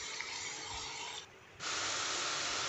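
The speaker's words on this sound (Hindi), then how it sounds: "तो पूरा मैं इसमें डाल दूँगी और अच्छे से इसको भून लेंगे हम।" Onion, chilli and garlic paste frying in a pan, a steady soft sizzling hiss that briefly dips quieter before returning stronger.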